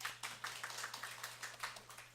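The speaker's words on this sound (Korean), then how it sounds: "박수 한번 주세요." A church congregation gives a round of applause during a Sunday morning service, heard as faint, somewhat distant, rhythmic clapping in quick repeated bursts with no voices over it.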